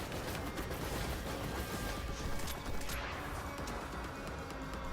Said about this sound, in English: And then you can use your auto rifle since this auto rifle has very good range.